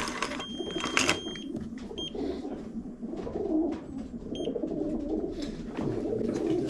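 Racing pigeons cooing inside a loft, soft repeated coos near and far with a few sharper chirps and clinks from the loft around them, with no talk.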